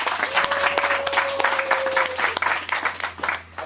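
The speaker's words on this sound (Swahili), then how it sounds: "Piga makofi kwa Yesu" Church congregation clapping together at a fellowship service, a lively crowd applause with a sustained tone running through the middle and fading near the end.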